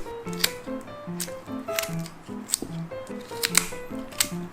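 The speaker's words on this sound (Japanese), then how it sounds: "反対側も、もうハサミです。" Scissors snip through the cheek meat of a titan triggerfish on a kitchen board, making a run of short, close crisp clicks and snips with faint rustling between cuts.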